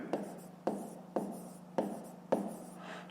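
A pen scratches across paper in five distinct strokes, each starting with a sharp tap and trailing off, spaced about half a second apart, close and quiet.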